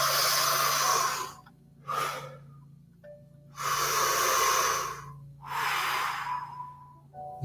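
Slow, deep breaths during a Wim Hof style breathing exercise, with long airy inhales and exhales alternating in a steady cycle, close and clearly audible with no talking.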